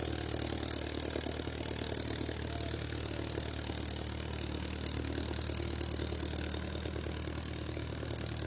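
An original-engine 1950 Plymouth Deluxe with a 3-speed column shifter runs during a veterans parade, giving an even, continuous mid-pitched engine hum that stays steady throughout with no speech.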